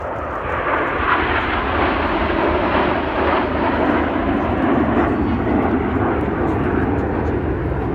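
Red Arrows display jets passing at the Midlands Air Festival, a loud, broad, steady roar that swells and lingers for several seconds, with faint voices in the background.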